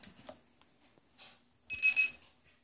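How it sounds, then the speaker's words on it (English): A short series of high electronic beeps, three quick pulses close by, as a Walkera TALI H500 drone powers up, following some faint clicks and handling noise in a quiet room. "You're going to power the copter up until it beeps."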